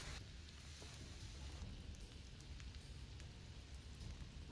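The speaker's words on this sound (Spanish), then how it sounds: "Me encanta que llueve." Steady soft rain hisses in a stealth video game, Shadwen, a continuous wash of drops with a faint low rumble underneath and no voices.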